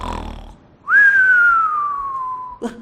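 A voice imitates snoring with a short raspy breath, then a long whistling exhale that slowly falls in pitch, ending with a brief snort.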